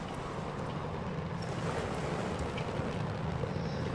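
Brutal ocean waves surround a sinking ship in the game Stormworks, a loud unbroken roar of surf and wind with no pauses and no voices.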